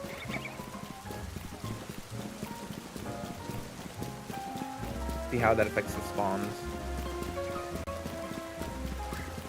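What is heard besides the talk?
rain falling in video game Pokémon Legends Z-A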